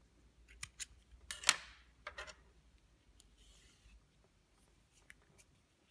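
Scissors snipping crochet yarn for an amigurumi giraffe, several quiet close clicks with one sharp louder cut in the middle, followed by soft handling rustle in a quiet room.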